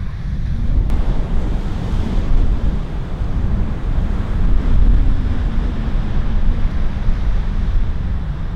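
Surf surges and crashes against shoreline rocks on the coast of Fukushima, Japan, a loud, continuous roar with gusts of wind buffeting the microphone close by and no voices.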